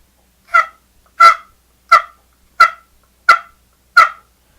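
A turkey pot call played on the gobbler side makes six deeper, evenly spaced yelps, close and clear, separated by silence.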